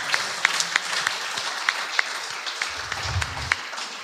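Church congregation clapping at a Sunday service, a sparse scattering of claps with a few distinct sharp slaps standing out, fairly light and thin rather than a full ovation, with a low murmur of voices underneath.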